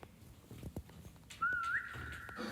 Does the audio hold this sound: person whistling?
yes